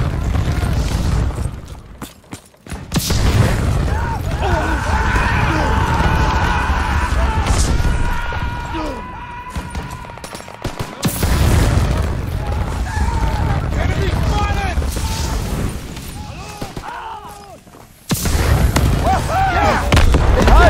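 Gunfire and explosions in a World War 2 video game: loud booms and bursts of shooting, with heavy blasts near the start, middle and end, under shouted voices.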